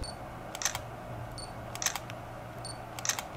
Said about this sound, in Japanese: ちょっとシャッター音をね、やっていきましょう。